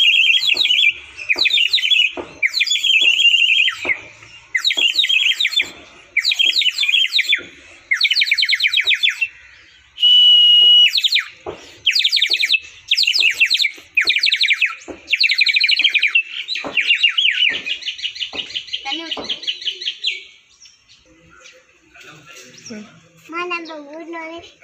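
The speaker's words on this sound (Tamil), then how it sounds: "பசங்க இந்த விசில் ஊத ஊத நிறைய குருவிகள் வர ஆரம்பிச்சிட்டு அந்த சவுண்ட் நிறையவே கேட்கும் பாருங்களேன்" A sparrow call whistle is blown over and over while sparrows chirp back, giving loud, rapid bursts of shrill chirping for about twenty seconds before dropping to a few quieter, scattered chirps.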